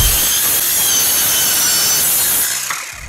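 A cordless mini circular saw cuts through wood close by with a loud, steady, high-pitched buzzing whine that holds for over two seconds, then dies away.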